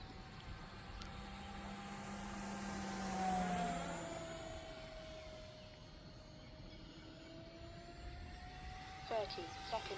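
An E-Flite F4U Corsair 1.2 m RC warbird makes a full-speed pass, its electric motor whine rising and bending in pitch as it sweeps close, then fading to a steady drone; a voice speaks faintly underneath.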